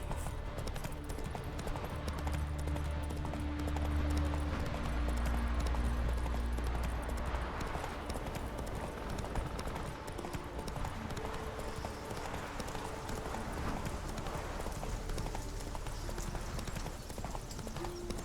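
Roach, the horse in The Witcher 3, gallops with a rapid, rhythmic clip-clop of hooves over low game ambience and music, steady and moderately loud throughout.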